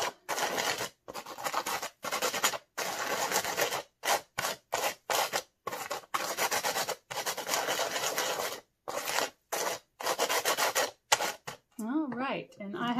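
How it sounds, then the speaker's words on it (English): Sand is rubbed by hand to darken it for sand art, making repeated short, gritty scratching strokes in an uneven rhythm with brief pauses, followed by a short voice at the end. "The longer you rub it, the darker it gets."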